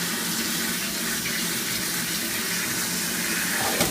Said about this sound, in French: Ensuite, on rajoute généreusement de l'eau.